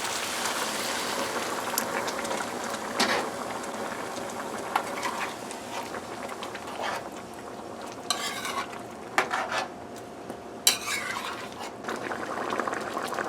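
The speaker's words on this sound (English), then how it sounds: "So it started boiling already there." Water poured into a pot of Guyanese chicken and bean stew comes to a boil, giving a soft steady bubbling hiss with occasional stirring scrapes and brief splashy bursts, fairly quiet and without talk.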